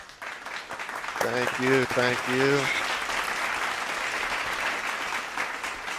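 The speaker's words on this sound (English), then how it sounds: "can we get a clap for the audience?" Studio audience clapping during a podcast show episode, steady applause filling the whole stretch, with a voice speaking briefly over it near the start.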